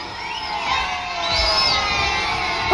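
A large crowd of children cheers and shouts at a rally, a continuous excited roar of young voices with whoops rising and falling, no single voice standing out.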